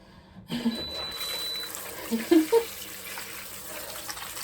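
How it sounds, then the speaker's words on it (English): Cold water running from a shower into a container indoors, a steady broadband rush that starts abruptly after a short silence, with brief clunks and knocks partway through. "Some cold water only, and we'll just fill this bugger up"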